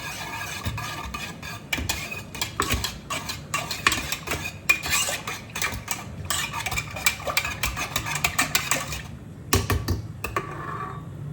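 A spoon scraping and clinking against a bowl while raita is stirred and mixed, a quick, steady run of close metallic taps and scrapes with short pauses.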